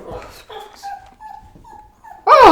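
Dog whimpering and whining nearby, a series of thin high cries and yips, rising and falling, ending in a sharper louder yelp.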